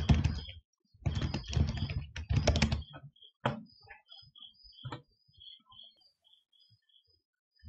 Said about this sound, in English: let's just type in a username